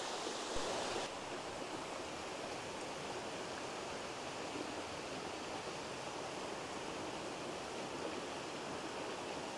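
South River Falls, an 83-foot waterfall in Shenandoah running with low water flow, gives a steady, even rush of falling water, a constant broadband wash heard from its base with no voices.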